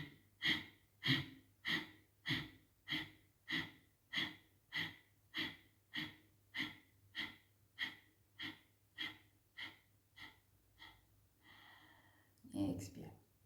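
A breathing exercise of slow inhales and exhales drawn into the lower belly, with a regular series of about seventeen soft, even breath puffs close to the mic in a quiet room, ending with a louder rustle.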